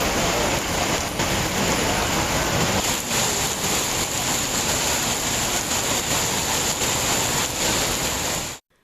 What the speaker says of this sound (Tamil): இரவு 2 மணி நேரத்திற்கு மேலாக கனமழை பெய்தது